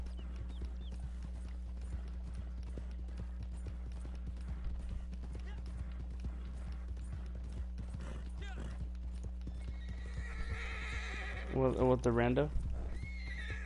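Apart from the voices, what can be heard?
horse galloping and neighing, video game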